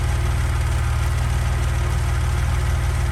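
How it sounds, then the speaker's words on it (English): A Saab 9-3 2.8L V6 that sat unused for three to four years idles steadily right after starting, a loud, close, even low rumble with a faint rhythmic tick running through it and no talking. "One crank and it starts."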